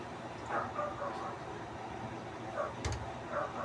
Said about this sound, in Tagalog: So, pasensya na pala sa aso mga boss. Medyo maingay yung aso.